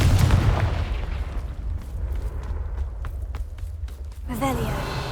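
In the Hogwarts Legacy video game, a Confringo blasting curse opens with a heavy blast, then crackling, debris-like clatter and thuds follow, and a voice speaks briefly near the end.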